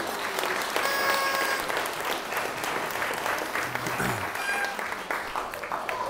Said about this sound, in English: So can we have a round of applause for them too for sorting that out please.